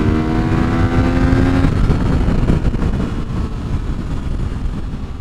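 A 2014 Yamaha FZ-09 motorcycle pulls hard through the top of third gear, engine note rising steadily then shifting into a loud, continuous roar with heavy wind rush, close and sustained with no talking.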